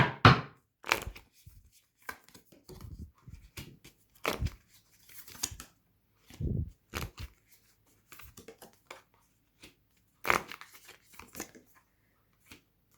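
Oracle cards are handled and drawn in a quiet room, with scattered crisp snaps, slides and soft rustles arriving irregularly, close and alone.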